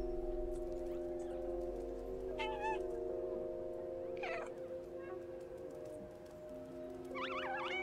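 A cat in the video game Stray gives a few short, high meows spread across the stretch, over a steady hum of game music and ambience.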